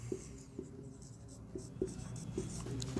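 Marker or chalk strokes on a classroom board during a Hindi lesson, a steady series of short scratchy strokes with small taps, close and moderately loud with no talking over them.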